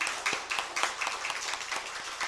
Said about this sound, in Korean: 일어나서 인사할 때 박수로 한번 축복하는 박수 한번 하겠습니다.